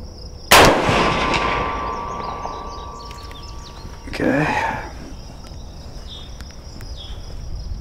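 A single sharp .30-30 rifle shot fired at a deer target 200 yards away cracks loudly outdoors, and a fainter thump follows about three and a half seconds later. Insects chirp faintly throughout, with no talk.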